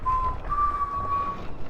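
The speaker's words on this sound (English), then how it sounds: "whistling in Skyrim makes NPCs whistle out of tune, adding more life as you walk in the streets." NPCs in the video game Skyrim whistling out of tune on a town street: a thin, wavering whistled tune with a few sustained notes over faint background ambience, no talking.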